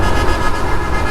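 Vehicle horns honking in busy traffic, a steady loud wash of tooting and road noise with no clear separate blasts throughout the short stretch.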